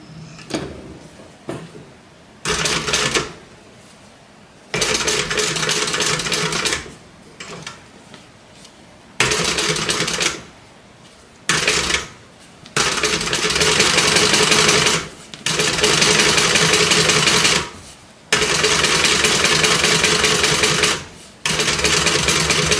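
A sewing machine top-stitches fabric for a stuffed doll project in repeated loud bursts of steady mechanical whirring, each run lasting a few seconds and separated by short pauses, with no talking.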